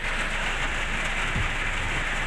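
Steady rain falls outdoors at a fishing spot just after gear has been packed up, a dense, even hiss of drops on surfaces that holds constant throughout with no voices.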